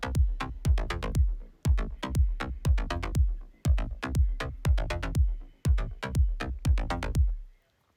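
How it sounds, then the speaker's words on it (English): Punchy electronic kick drum hits with a sliding bass line underneath, playing alone in Ableton Live in a steady repeating dance pattern, loud and close, cutting off abruptly at the end. "I've got a kick on this channel and a bass line on this channel."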